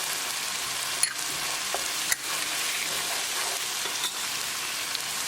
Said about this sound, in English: Keep mixing and cook the spices along with tadka for 1 minute